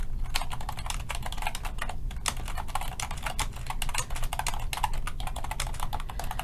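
Rapid typing on a computer keyboard, a dense run of light key clicks going continuously, close and clear with no talking.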